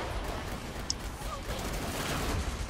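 Dense, unbroken barrage of explosions and gunfire in the shooter game Killing Floor 2, a loud rumbling roar that fills the clip with one sharper burst near the start.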